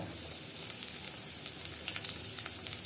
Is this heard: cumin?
yes